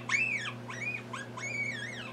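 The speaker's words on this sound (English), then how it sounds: "that's the sound of a baby marmot" A baby marmot calling in Gothic: four short, high, rising-and-falling squeaky chirps in a quick series, fairly close and faint over a low steady hum.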